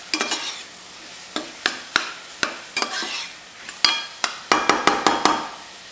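Onions tossed in butter for butter chicken, a series of sharp utensil strikes and scrapes against the pan in an uneven rhythm, over a quiet background sizzle with no voices.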